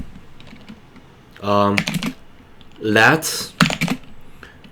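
Computer keyboard keys clicking in quick bursts between and under a man's speech while code is written, close and moderately loud.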